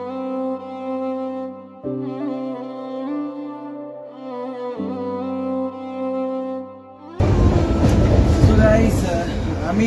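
A passenger train runs from Manmad toward Dharmavaram, heard from inside a carriage. For about seven seconds a tonal, voice-like or musical sound plays, then a loud, dense rumble of the moving train takes over to the end.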